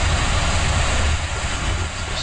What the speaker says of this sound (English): This plane just flies so casually.